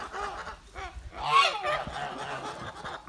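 Several molting Kholmogory geese honking close by, a loud cluster of harsh honks mid-clip with softer calls before and after, no talking.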